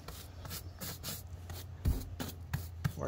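Sawdust worked by hand into oily chain mail, a rhythmic series of gritty rubbing and scrubbing strokes with light metallic rustle, close and fairly quiet.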